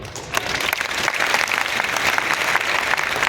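Audience clapping along during a Hindi talk on oil extraction, a dense, steady burst of many hands that swells after a brief quiet start and stays loud and even to the end, with no speech over it.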